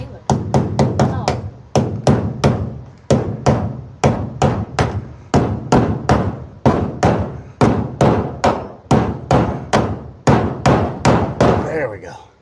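A hammer drives nails into wood in a run of about thirty sharp, loud, close blows, first fast and then evenly paced, each ending in a short ringing decay.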